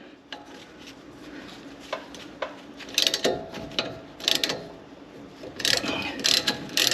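Wrench clicking and ratcheting while a brake caliper slide pin bolt is broken loose on the front brakes of a 2017 Ram 1500, in bursts of metallic ticks that grow busier and louder toward the end.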